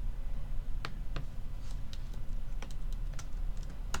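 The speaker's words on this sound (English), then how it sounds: "so you'll type in the parameters of your um, rocket" Keys on a computer keyboard tapped in scattered bursts while parameters are entered into rocket design software, close and clear over a steady low hum, with no talking.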